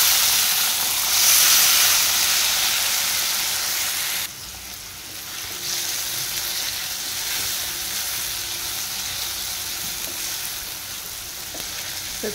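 Tomatoes hitting hot oil with cumin seeds, a loud steady sizzle that settles into a softer continuous crackle and hiss, close and without talk.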